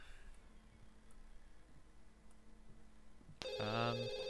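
A telephone in The Sims 2 video game starts ringing near the end, a bright electronic trill that cuts in suddenly over a quiet game background with faint ambient tones.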